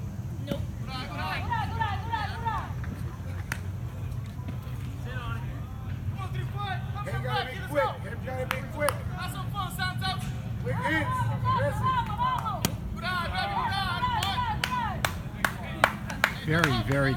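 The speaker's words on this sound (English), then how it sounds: "You can hear the crowd yelling for him." Spectators at an 18U softball game clap and yell in a steady, busy hubbub, with crowd noise and chatter running throughout and a few sharper claps standing out near the end.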